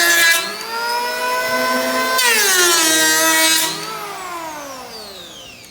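An electric power planer whines loudly as it passes along a rough wood edge, its steady motor tone rising in pitch and roughening while cutting, then winding down toward the end, with no one speaking.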